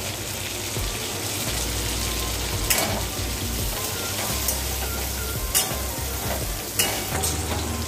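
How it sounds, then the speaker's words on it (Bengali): Potato pieces frying in hot oil for a Bengali prawn and Malabar spinach curry, a loud, dense, continuous sizzle with occasional sharp crackles and stirring clinks, close by, with no talking. "আমি ওই একই তেলে আমি সবজিগুলো ভেজে নিচ্ছি। আমি আলুটা দিয়ে দিলাম।"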